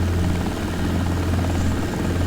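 A float-equipped helicopter lifts off from a harbor in a desktop flight simulator, its rotor and turbine making a loud, steady, dense drone with a pulsing low thump that holds evenly throughout.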